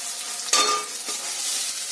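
Ginger paste added to softened tomato masala with salt in a pan for ghugni, giving a close, loud frying sizzle with a sharp stirring scrape near the start.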